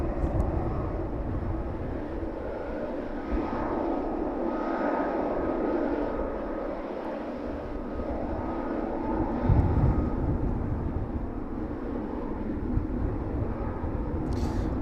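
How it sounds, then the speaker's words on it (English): An airliner taxis toward the apron at East Midlands Airport in the evening, its engines a steady, loud, broadband rumble and whine that holds throughout with little change, and no voices are heard. "This one continuing its taxi towards the apron this evening."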